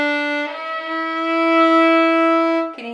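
Violin slur in which the fingering of the second note is not pressed down quickly, a sustained bowed tone with a slightly vague, unclear change between notes, played alone and close.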